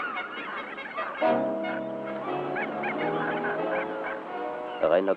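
Geese honking at a bird sanctuary near the coast, repeated loud nasal calls overlapping in a close, continuous chorus with a burst of honks near the end.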